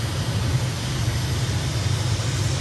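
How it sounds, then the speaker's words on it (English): A jet aircraft making a rolling takeoff in a flight simulator, a steady, loud low engine roar with a constant hum and no break in the sound. "so better do a rolling takeoff"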